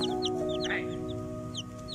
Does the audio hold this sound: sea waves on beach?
no